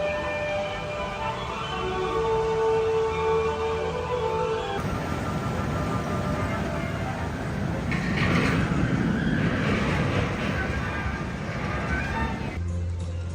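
Rumbling rattle of a runaway mine train roller coaster at Great Adventure on its track, a steady mechanical roar with clacking wheels that swells and shifts midway, loud and close.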